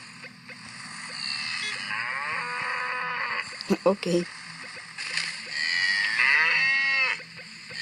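A cow in the video game Crossy Road moos loudly in drawn-out calls over a faint splash of water, with a voice speaking briefly between them.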